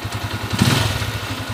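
A Honda TMX155 motorcycle converted to a five-speed gearbox idles close by, its single-cylinder engine putting out a steady, even low chug with mechanical clatter layered over it.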